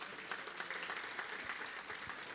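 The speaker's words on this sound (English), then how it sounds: "Please, some claps to the guys here." An audience claps at a HeliSimmer.com presentation at FlightSimExpo 2023, giving steady, dense applause throughout with no voices over it.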